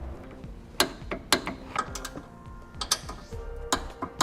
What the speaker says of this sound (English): Now we'll torque all of our hardware to the amount specified in the instructions.